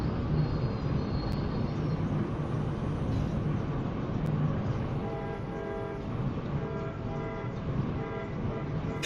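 Within the Rail Sim Universe video game, a simulated train rumbles steadily as it brakes toward a station, with a low continuous drone, faint tonal whine and a short horn-like toot early on.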